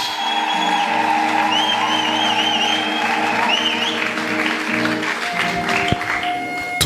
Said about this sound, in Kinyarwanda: Twongere dukomere Imana yacu amashyi menshi.